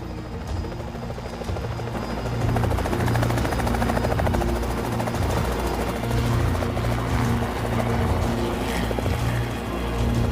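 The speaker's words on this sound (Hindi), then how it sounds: "बताना चाहता हूँ कि तुम्हें ढूंढने के लिए हेलीकॉप्टर निकल चुका है।" A search helicopter in a Hollywood movie dubbed into Hindi thunders overhead near an outer island, its heavy rotor chop and engine roar continuous and loud throughout with no voices.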